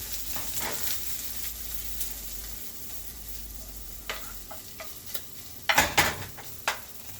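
Meat for a cheesesteak sandwich sizzles in a hot pan with a steady crackle, broken by a few sharp clinks and scrapes of a utensil against the pan.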